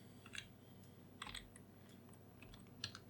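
A virtual machine name being typed on a computer keyboard, a quiet scattering of irregular light key clicks over a steady low hum.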